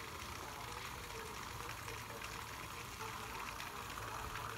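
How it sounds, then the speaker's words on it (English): A pump pushing out dirty water during a koi fish tank cleaning, a continuous, even rushing and gurgling of flowing water with no pauses. "Still pumping the water there."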